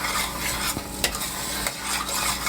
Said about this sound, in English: Mix it up together.